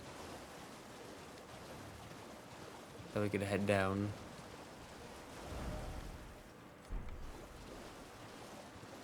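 A steady rushing waterfall in the game Elden Ring Shadow of the Erdtree hisses as a constant wash throughout, with someone briefly speaking over it midway.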